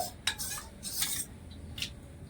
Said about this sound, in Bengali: সামান্য একটু জল ভালো করে মিশিয়ে নেব সব কিছু